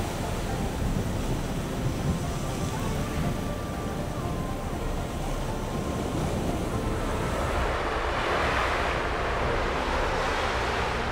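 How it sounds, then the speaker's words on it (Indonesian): Surf rolling onto the shore at Biak Numfor, with wind moving through leafy trees near coral rocks; a steady, continuous broadband wash with no voices. "Disambut derunya ombak dan angin yang membelai pepohonan"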